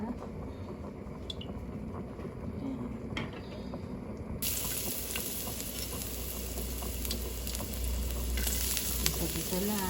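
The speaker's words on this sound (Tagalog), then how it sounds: "Mainit na po ang kawali. Lagyan natin ng kaunting mantika." Washed fish sizzles in oil in a hot pan, a steady close crackle that grows brighter and denser midway, with faint clinks from the cook.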